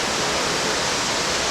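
A river rushing through the wild highlands near Ijevan, Armenia, gives a steady, full broadband wash of flowing water, close and continuous with no voices.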